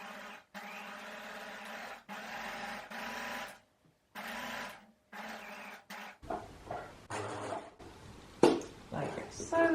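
A sewing machine stitches a fabric applique in several short runs, with brief pauses between them. A person then talks over lighter handling noises.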